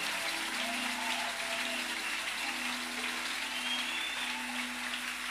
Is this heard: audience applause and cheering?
yes